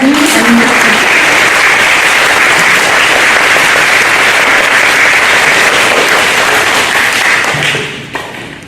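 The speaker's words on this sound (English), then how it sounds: "Congratulations, a round of applause for all of you." Loud, sustained applause fills a school awards ceremony for third graders, dense clapping from a large crowd that holds steady and then tapers off near the end.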